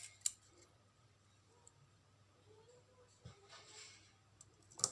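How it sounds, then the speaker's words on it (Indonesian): Scissors snipping adhesive tape at a desk, a few sharp isolated clicks and cuts near the start and end, fairly close against a quiet room hum. "pakai gunting saja motongnya ini"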